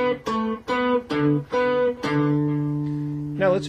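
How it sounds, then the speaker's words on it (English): Classical guitar playing the opening measure of a Bach piece as plucked single notes in a steady run, each note ringing clearly, ending on a longer held note, close and solo with no talking. "So measure 1 in essence sounds like this."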